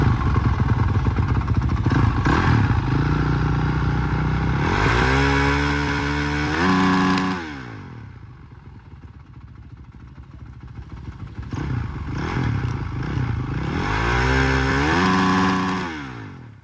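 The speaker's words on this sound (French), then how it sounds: "On entend toutes les motos." 2002 Honda CRF 450 motorcycle engine at a noise meter check, loud and close, idling roughly then revving up and down repeatedly in two rising and falling bursts with an idle between them.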